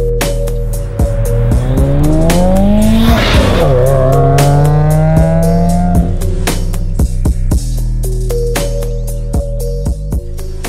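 A sports car with an AWE Tuning exhaust revs up and down through gears with a loud, rumbling exhaust, close by and continuous, with tires squealing briefly.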